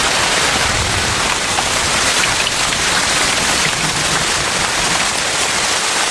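Heavy, steady rain pours down in a rainforest in a dense, continuous hiss, loud and close, with no breaks or voices.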